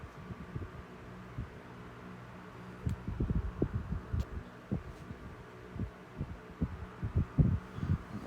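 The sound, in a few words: 1970s Galaxy Lasko 12-inch desk fan model 3150 on medium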